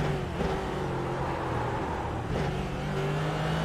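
A GT3 racing car engine in the sim game iRacing roars steadily at high revs, with brief dips as it shifts gears, loud and continuous without speech.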